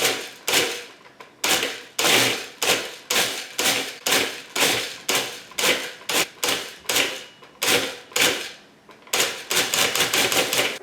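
Food processor pulsing dates and a paleo cheesecake base mixture, loud repeated short whirring bursts, roughly two per second with brief gaps, speeding into a continuous run near the end.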